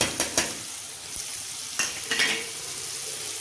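Paneer cubes being stirred into a tomato masala in a pan, with soft sizzling and a few sharp scraping clinks from the spoon against the pan, steady and close with no voices.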